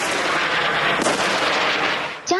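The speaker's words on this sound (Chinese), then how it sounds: "加萨暗夜炮声隆隆" Artillery fire in Gaza at night during a ground offensive, heard as loud, continuous rumbling booms and blasts that fill the whole stretch, with no speech.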